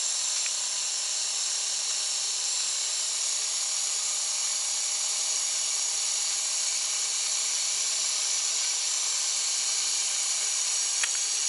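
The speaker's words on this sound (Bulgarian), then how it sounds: "Ако ги пуснем и двете, количеството на парата е недостатъчно да работят и двете максимално." Steam hisses steadily from a working model steam power plant turbine, a continuous bright, even rush with a couple of faint ticks, no talking.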